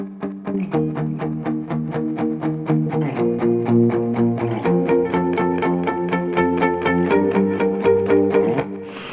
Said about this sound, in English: each note of the chord played in a different part of the stereo field, which just creates this awesome, really big jangly effect